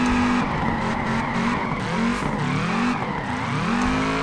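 Drift car tires skid and squeal in the Peak Angle Drift Online racing game, a loud, continuous wavering screech over a steady engine drone that holds for several seconds with no talk.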